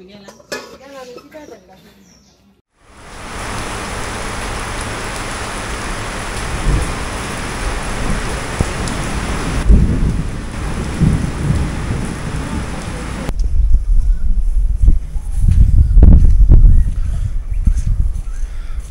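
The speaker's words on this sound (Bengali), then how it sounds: "সকালবেলা বৃষ্টি হয়েছে বৃষ্টিতে পানিও জমে গেছে ক্ষেতের মধ্যে পানি জমছে" After a brief voice, heavy autumn rain begins suddenly and pours steadily over fields in Bengal, loud and close, with voices murmuring beneath it toward the end.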